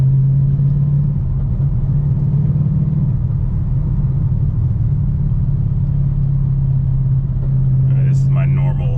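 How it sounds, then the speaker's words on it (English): A car engine hums steadily under light throttle on a test drive, a loud, even low drone with road rumble from inside the cabin, and a brief voice comes in near the end. "So that's me just giving it a little bit of throttle."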